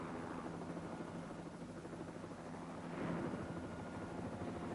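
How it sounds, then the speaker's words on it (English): A Wessex helicopter flies over Glencoe toward Fort William, its broad, steady rotor and engine roar filling the scene at a constant level with a slight swell near the end. "With the patient safely aboard, the helicopter sets off for Fort William Hospital."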